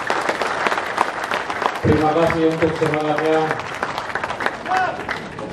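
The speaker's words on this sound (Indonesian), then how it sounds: "Mari kita tepuk tangan untuk kita sendiri" Applause from participants at a closing ceremony of a civil service basic training course, a dense clapping wash that runs throughout under a voice speaking and a tonal chime or music in the middle.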